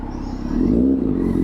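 A Yamaha FZ6 Fazer motorcycle engine revs briefly, its pitch rising and holding as the throttle opens, loud and close.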